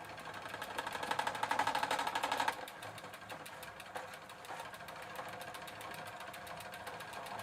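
Pedal cranks of a cheap Gazelle Maxinette moped under recommissioning are turned by hand in third gear, giving a fast, even mechanical ticking whir, louder for the first couple of seconds, then steady and quieter.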